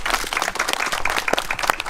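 Dense, steady applause from an audience at a memorial ceremony for a martyr, honoring his parents; many hands clap together at close range, continuous and fairly loud for the whole stretch.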